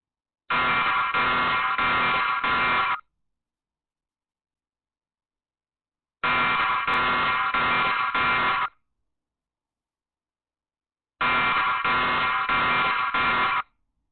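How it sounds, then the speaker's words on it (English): An electronic alarm buzzer blares in three loud bursts of about two and a half seconds each, with silent gaps between them, its harsh pulsing tone cutting in abruptly each time. "The video starts with the alarm suddenly going off"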